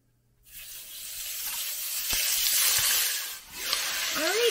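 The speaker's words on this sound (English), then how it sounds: "so I've got my steak cooking. It's cooking it really quickly, just like it advertised" Steak searing in a pink 11-inch Tiborang nonstick multifunctional pan, a steady close sizzle that swells and holds, with faint clinks of a utensil.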